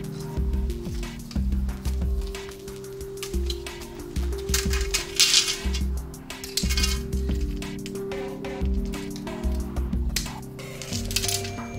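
Cut window screen frame bars being fitted together into a square, a series of close clinks, clicks and light metallic knocks at irregular intervals over a low background hum.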